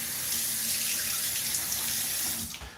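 Cold water runs steadily from a tap into a sink for rinsing after a shave, a close, continuous splashing hiss that cuts off near the end.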